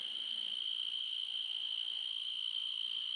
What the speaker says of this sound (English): That's the noise of the death beetle.